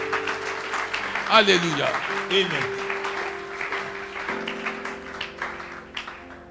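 A church congregation at a Friday worship service applauds steadily and fairly loudly, mixed with voices calling out and singing.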